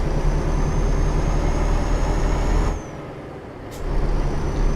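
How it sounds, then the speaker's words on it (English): Truck engine in Euro Truck Simulator drones steadily with a loud, constant rumble. It dips partway through, then a short air brake hiss sounds before the engine noise swells back. "the more we'll hear the truck engine."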